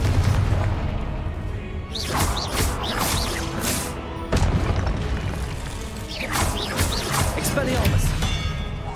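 Repeated fiery blasts from the Confringo spell in the Hogwarts Legacy video game, loud booming bursts at about two, four and six seconds over a dense, continuous battle din with no speech.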